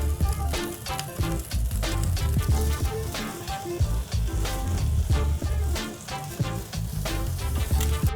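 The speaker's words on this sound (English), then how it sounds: "I'm gonna sear this steak off." A steak sears on a hot cast iron grill grate over direct heat, giving a steady, fairly loud sizzle that runs through the whole stretch.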